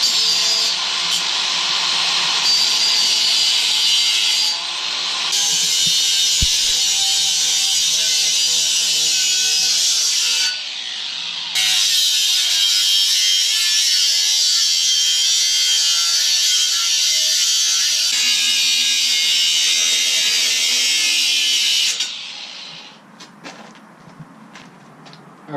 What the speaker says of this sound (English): I'm probably going to cut the other flange off real quick and then clean them both up with the grinder